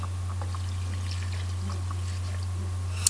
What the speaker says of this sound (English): I'm going to add like 2 cups of water because I want it to cover my oxtails.